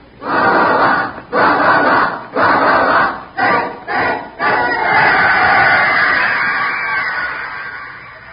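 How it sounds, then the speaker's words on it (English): Crowd roaring at a football game in an old-time radio comedy drama: several loud surging bursts of shouting with brief gaps, then one long sustained roar that slowly fades. "The crowd roared."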